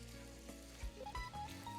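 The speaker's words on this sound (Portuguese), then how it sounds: "hora de colocar o camarão na panela" Shrimp sizzling in a hot pan make a quiet, steady crackle with soft clinks and stirring sounds.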